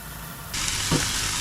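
Chilli con carne sizzling and frying in a pan, a steady loud hiss that jumps in intensity partway through as the mix settles in, close and continuous with no talk.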